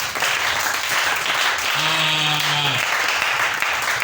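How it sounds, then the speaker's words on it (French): A church congregation applauds the Lord in a steady, dense wash of clapping, with a brief sung or called tone rising over it midway. "On acclame le Seigneur."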